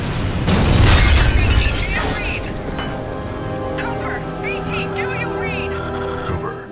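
A heavy boom from a fold weapon's backblast in the video game Titanfall 2, a loud low blast followed by crackling debris and a long, tonal mechanical rumble fading out.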